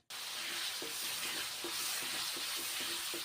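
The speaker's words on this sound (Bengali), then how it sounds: "তারপর এখন মাশরুমগুলোকে আমি ভেজে নিচ্ছি" Mushrooms frying in hot mustard oil in a wok, giving a steady close sizzle with occasional stirring scrapes and soft pops throughout.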